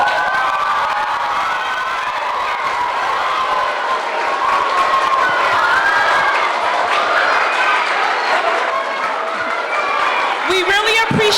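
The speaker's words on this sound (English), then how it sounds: "Stand up, give them a round of applause again." Audience applause at a school women's forum: a sustained mix of clapping, cheering and children's shouts and whoops filling the room, with voices calling out throughout.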